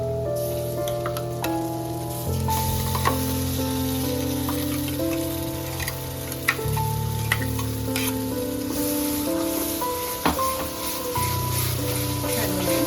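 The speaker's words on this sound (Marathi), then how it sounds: "घरगुती मसाले टाकते मी. वाटण टाकते." Homemade ground spice paste sizzles steadily in a pan for egg tikka, with scraping stir strokes over a continuous frying hiss and music playing in the background.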